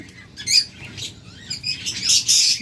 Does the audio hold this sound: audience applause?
no